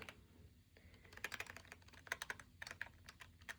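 Rapid typing on a Wooting 80HE keyboard, a dense run of crisp clacky keystrokes close to the mic, quiet overall and steady for several seconds with no voices.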